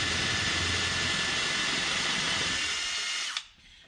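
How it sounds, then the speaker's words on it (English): A HOTO 12-volt brushless drill with a metal bit runs at a steady, high whine as it bores into wood, close and loud, then cuts off abruptly near the end. "I'm going to drill this piece of wood"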